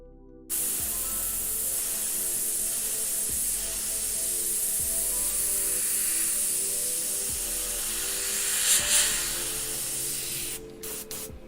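A paint spray gun hisses loudly and close by in a long, steady blast of atomised air, with a few brief surges, before cutting off abruptly.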